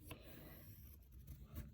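A pencil traced around a bottle as a Diwali craft, giving a soft, steady scratchy rubbing that runs throughout, fairly quiet and close.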